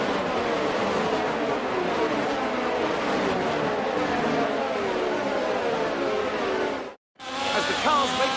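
Formula 1 cars in F1 22 roar through a race start, a dense continuous wall of engine noise with shifting pitch sweeps, cutting out abruptly for a moment near the end before resuming loudly.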